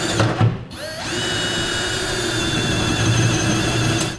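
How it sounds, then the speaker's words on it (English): A power drill bores down through the hat channel of a Ram truck frame while fitting a Curt custom fifth wheel kit, a steady close whine with a brief squeal of the bit, running continuously with no talk. "we'll also drill down through the hat channel"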